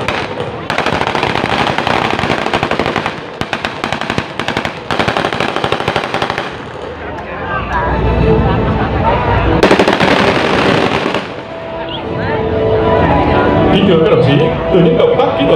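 Vietnamese mobile police fire weapons during a 2022 tactical drill and shooting competition in Hue, with rapid bursts of loud gunfire, brief pauses and further volleys, while a voice speaks over it.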